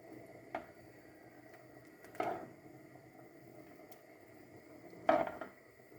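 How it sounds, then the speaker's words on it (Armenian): A lid is set onto a pot of bean soup made with wheat groats and cut dough noodles in a quiet home kitchen, giving three soft metallic clinks spread apart, with no talking. "Հիմա կաթսայի կափարիչը կդնեմ կաթսայի վրա և կանջատեմ գազօջախը։"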